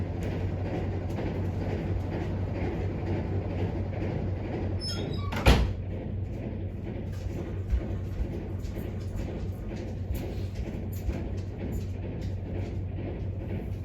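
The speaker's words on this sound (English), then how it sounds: "I'm going to go shut that door." A door is shut indoors, heard as a single sharp thump midway through, over a low steady background hum with no talking.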